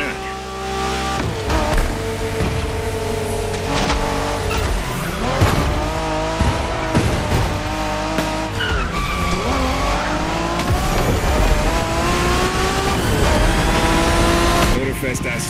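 Honda NXS R tearing through a Japanese street race in The Crew Motorfest, engine revving and shifting with repeated tire squeals and skids, loud and close, with voices talking over it.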